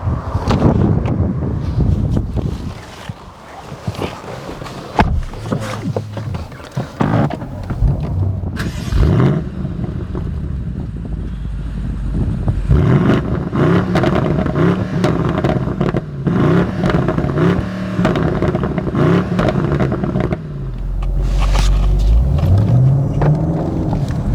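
A 2019 BMW M850i coupe on the move, its engine rising and falling as it accelerates, with steady road and wind rush and a few bumps, heard from inside without talk.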